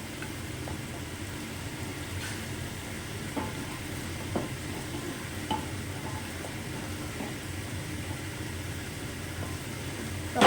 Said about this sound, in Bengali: এবারে জল দিয়ে ভালো করে কষিয়ে নেব এই চিংড়ি মাছটার সঙ্গে